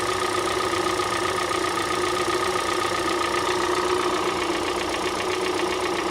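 A car engine idles steadily with a continuous, slightly rattly mechanical hum and faint ticking, close and constant throughout with no voices.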